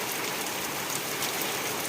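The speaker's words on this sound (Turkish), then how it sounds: "Çok aşırı yağmur yağıyor bakın." Heavy rain pours down in a dense, steady hiss close by, unbroken throughout.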